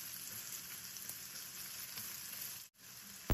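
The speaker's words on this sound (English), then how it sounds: "I'm gonna let it fry for a few minutes before adding other ingredients." Chopped onions and ginger frying in a pan for beef fried rice, giving a steady broadband sizzle with faint crackles, a brief drop to near silence, then a sharp clunk at the end; no voices.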